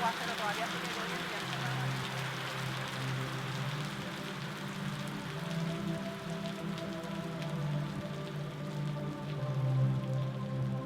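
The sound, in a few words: heavy rain falling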